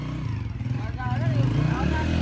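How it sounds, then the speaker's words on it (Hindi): A grandmother rides a motorcycle over sandy ground, its mid-pitched engine humming and rising steadily underneath loud, continuous talking from people nearby. "अपनी दादो को भी हम लोग बाइक चलाना सिखा रहे हैं।"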